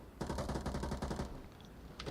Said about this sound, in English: Now gunshots are being fired.